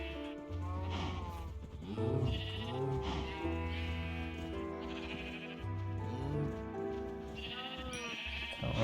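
Cows in Minecraft give a series of drawn-out, wavering, bleating moos one after another over a constant low background hum, each call rising and falling in pitch.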